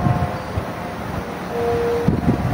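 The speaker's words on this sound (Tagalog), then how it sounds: "Ang lakas ng bagyo." Strong typhoon wind buffets the microphone in a loud, continuous rush with gusty bursts, near a harbor where ships are standing by.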